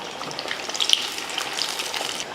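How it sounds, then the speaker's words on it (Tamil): Battered Iftar snacks deep frying in hot oil, a steady close sizzle and bubbling that runs unbroken with no talk. "நல்லா எண்ணெயில் பொரித்து எடுத்துருவோம்."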